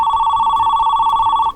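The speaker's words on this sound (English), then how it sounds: "I'm getting a call." An office phone rings loudly and close with a steady electronic warbling tone that holds for over a second before cutting off abruptly.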